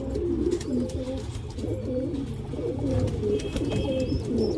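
Pigeons cooing repeatedly in soft, throaty phrases close by on a rooftop, with faint background noise and no talking.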